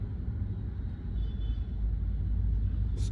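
Steady low cabin rumble inside a Skoda Kushaq compact SUV on a late-evening drive to the gym, continuous road and engine drone throughout with no talking.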